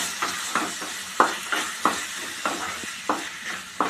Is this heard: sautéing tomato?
yes